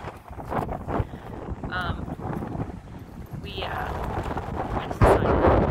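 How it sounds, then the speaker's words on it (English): A chilly breeze blowing at a bay, heard as loud rumbling wind buffeting the microphone in gusts, swelling near the end, with brief faint tonal sounds drifting through. "The breeze is kind of a little on the touch chilly, but it's kind of on the breezy side."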